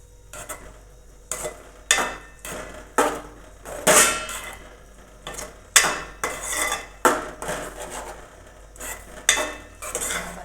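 Maggi noodles mixed with masala in a metal pan, a spoon scraping and clanking against the pan in about a dozen loud, close, rhythmic strokes with short pauses between, no talking.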